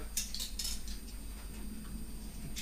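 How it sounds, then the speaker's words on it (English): Cutlery handled while packing wild-camping gear in Scotland: a few light metallic clinks near the start over a steady low hum, then quieter rustling; no voices. "Cutlery."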